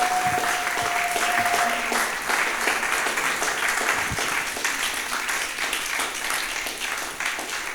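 Sustained applause from a church congregation, a dense wash of many hands clapping together that stays loud and steady throughout, with no speech over it.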